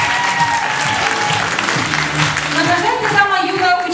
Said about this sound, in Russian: Ваши аплодисменты, поздравляю!